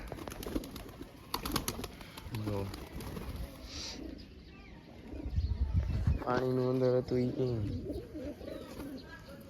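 Pigeons coo in low, repeated throaty calls close by, mixed with people talking and some splashing water.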